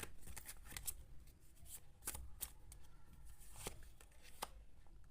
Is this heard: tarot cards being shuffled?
yes